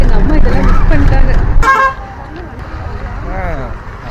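A vehicle horn honks on the road during a long-distance bus trip from Chennai to Kanyakumari, one short, loud toot heard after close talking, with road noise continuing beneath.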